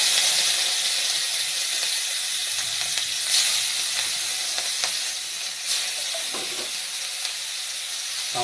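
Prawns fry in hot oil in a wok for a bottle gourd and prawn dish, a loud continuous close sizzle with occasional soft clinks and spatters.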